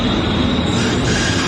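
A fast train rushing through a station platform, a loud continuous roar with rail noise and a faint high squeal, close and unbroken throughout.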